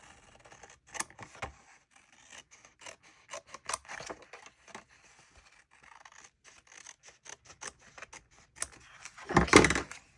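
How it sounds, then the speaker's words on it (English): Close, crisp snips of scissors cutting paper, a quick irregular series of small clicks and crunches with a louder rustle near the end. "then I will use scissors here"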